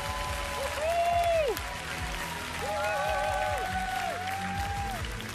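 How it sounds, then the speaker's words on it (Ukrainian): Studio audience applauds on a Ukrainian TV singing show, steady clapping heard under music and a voice, rising and holding at moderate loudness. "Давайте підтримаємо оплесками чарівних сестричок Данилових."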